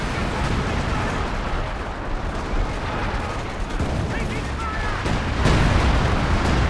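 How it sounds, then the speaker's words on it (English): Artillery shells landing in a Company of Heroes 2 battle, a dense, continuous rumble of booming impacts and gunfire with a heavier burst near the end, under a voice talking. "Some artillery coming down as well."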